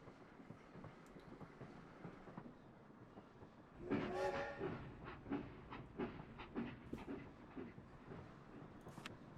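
Roller coaster train in the RollerCoaster Tycoon video game, faint rumbling and rhythmic clacking along track that swells and stays irregular, mixed with light game ambience.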